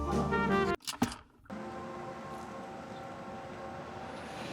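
Steady rumble of a train running along the railway right beside a roadside cafe on National Route 3, with a brief loud burst near the start before a continuous, fairly close drone carries on without talk.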